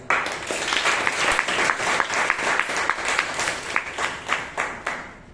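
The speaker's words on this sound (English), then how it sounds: "A round of applause." Applause from a Toastmasters meeting audience in Bangalore, loud and continuous, with individual claps standing out in an uneven rhythm that thins slightly toward the end.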